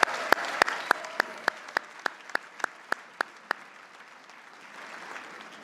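An audience applauds a mayor's wife on her wedding anniversary, beginning as a dozen sharp, evenly spaced claps that slow and fade into a light, scattered patter.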